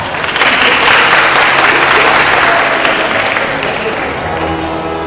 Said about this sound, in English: Please give a round of applause to Dr. Ruth Bamyongrong